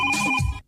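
A telephone gives one short electronic ring, a bright steady tone that cuts off abruptly, with silence afterward.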